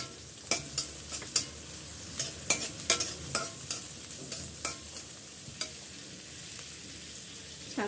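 Prawns frying in a pan and being stirred, a low sizzle punctuated by a quick run of clattering spatula scrapes and knocks that thin out toward the end.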